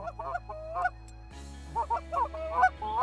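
Canada geese honking in a steady run of calls over an open field hunting spread of full-body goose decoys and mallard decoys, the honks coming in rhythmic bursts from fairly close, with a low wind-like rumble beneath.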